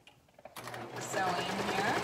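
A sewing machine stitches a raglan shoulder seam on a short garment, a quick steady needle rattle that starts abruptly and runs close under a voice.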